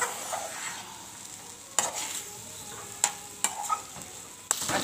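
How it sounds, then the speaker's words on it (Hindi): Dal and chana are stirred with spices in a hot frying pan at home, giving soft scraping strokes over a gentle sizzle, punctuated by several sharp clicks of the spoon against the pan. "दाल को अच्छी तरह मसाले के साथ मिक्स करेंगे।"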